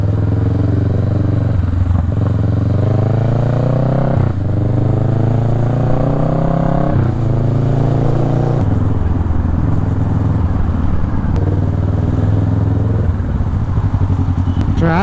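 A motorcycle called Vulcan, ridden through city traffic, drones loud and close with repeated rises in engine pitch as it accelerates through the gears, plus some wind and road noise.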